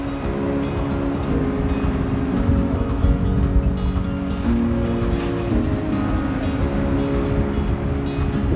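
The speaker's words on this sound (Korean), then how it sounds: "이 파도 소리가 들리시나요?" Steady roar of surf and strong wind on a winter beach at Mangsang, Korea, continuous and broad, with a faint low droning hum underneath and no voices.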